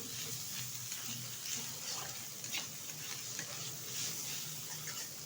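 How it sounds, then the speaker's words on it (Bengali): Potatoes being stirred with spiced, well-fried onions in a pan for a fried goat brain and potato dish, soft continuous sizzling with light scraping and clicking stir strokes, fairly quiet and without talk. "এখন আলুর সাথে সবগুলো উপকরণ একসাথে মিশিয়ে নেব"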